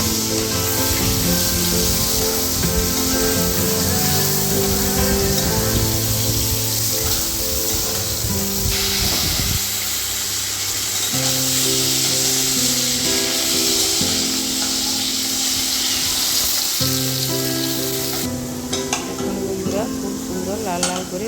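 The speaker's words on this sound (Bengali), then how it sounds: "ওই তেলেই দিয়ে দিচ্ছি কেটে রাখা আলু আলুগুলো ভালো করে লাল লাল করে" Cut potatoes frying in hot oil for a Bengali-style prawn curry, a steady loud sizzle with stirring and scraping in the pan throughout, alone without talk.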